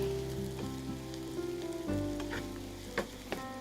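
Onions fry with salt in a pan for Amritsari tawa paneer, giving a steady close sizzle with scattered crackles and a few sharper pops near the end.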